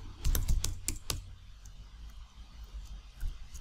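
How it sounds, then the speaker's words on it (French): A short burst of typing on a computer keyboard: several distinct, fairly close key clicks at the start, then faint scattered taps over a low room hum. "dans lequel vous pouvez taper ce que vous voulez"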